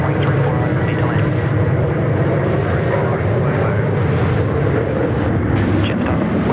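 An airliner roars down the runway on takeoff at Sydney Airport during the busy morning departure rush, a loud, broad, sustained jet rumble that fills the whole moment without letup.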